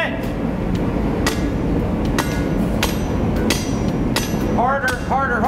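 In a forge, a hammer strikes hot metal in a steady series of sharp metallic blows about every half second, with a ringing tone near the end over a constant roar of background noise.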